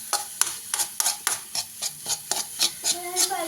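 Carrot curry stirred in a pan with a spoon makes a close, even run of about a dozen scraping strokes, each a short sizzling swish on the metal, with a voice speaking faintly underneath.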